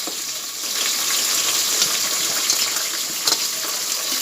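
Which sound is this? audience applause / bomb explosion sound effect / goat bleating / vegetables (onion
vegetables (onion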